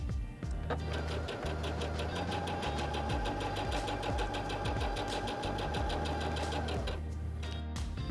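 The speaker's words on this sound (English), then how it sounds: "step on the foot control to sew" Singer Heavy Duty HD6805C sewing machine running a straight stitch, a steady close whirring motor with fast rhythmic needle clatter, starting and stopping sharply.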